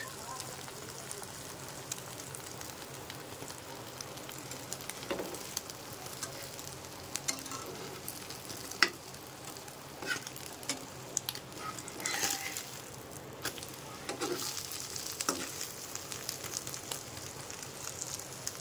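Egg-coated toast frying in a pan in a village kitchen, giving a steady sizzle with occasional scrapes and clatters as it is turned, while a voice talks over it.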